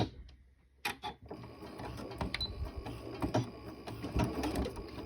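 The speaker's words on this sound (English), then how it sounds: "We're going to try sewing" A sewing machine stitching a lace-zipper pouch starts after a quiet moment, then runs steadily and close by with a busy, clicking mechanical whir until the end.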